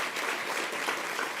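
Audience applause at a women-in-leadership panel event, a steady wash of many hands clapping together, fairly close and even with no voices standing out.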